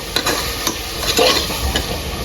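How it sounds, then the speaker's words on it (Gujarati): A dish being stirred in a sizzling pan after sambar masala goes in, a dense continuous fry overlaid with repeated scraping spatula strokes at an uneven rhythm. "થોડો સાંભારનો મસાલો નાખી દેવું આપણે અને પછી આપણે એને હલાવી લેતું"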